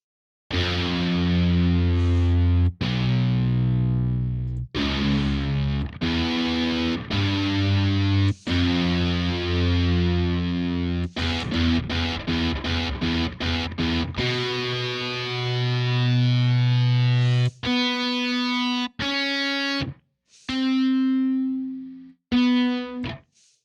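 Shreddage 3 Jupiter, a 7-string metal guitar virtual instrument played from a keyboard, heard as loud distorted riffs mixing long sustained chords with rapid palm-muted chugs and sharp staccato stabs, with no voices.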